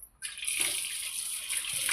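Running tap water rinses sprouted beans in a kitchen, a steady close hiss of flowing water starting after a brief quiet moment.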